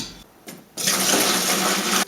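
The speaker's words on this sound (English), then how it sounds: "we're going to fill the fermentation vessel with the water" Water pours into a homebrew beer fermentation vessel in a loud, steady rushing stream that starts abruptly after a short pause and stops cleanly, with no talking.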